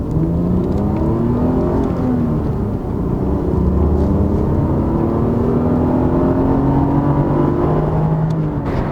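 A 2002 BMW 520i E39 drives along with a steady, loud engine drone and road roar, the pitch gliding up and down through gear changes, heard from inside the car with no talking.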